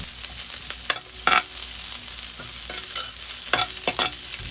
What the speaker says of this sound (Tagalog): At igisa natin hanggang sa malanta ang sibuyas.